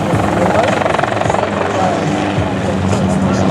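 A helicopter performs at a naval air station airshow, its loud, steady rotor drone and throbbing engine filling the air continuously, with an announcer talking over it.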